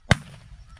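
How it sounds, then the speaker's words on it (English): A single shotgun blast during a duck and goose hunt in snow: one sharp, loud, close report with a short decay, followed by quiet outdoor background. "Nice shot, Murray. Two nice shots. You doubled up there"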